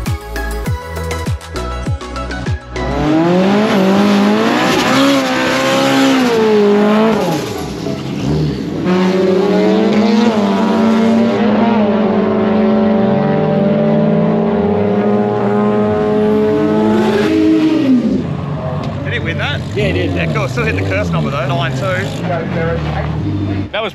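Drag racing car on an Australian drag strip, a loud engine roaring and revving hard as it launches and pulls down the track, with sustained rising engine tones and crowd or announcer talk mixed underneath.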